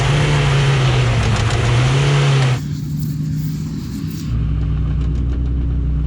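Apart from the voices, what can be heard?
car engine revving while changing gear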